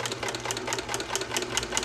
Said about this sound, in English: I got the sewing machine cocked at a 45-degree angle